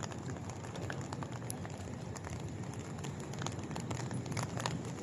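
Heavy rain falls steadily on an urban street in Naga City, Cebu, a dense, continuous hiss with scattered nearer drops and splashes, no voices.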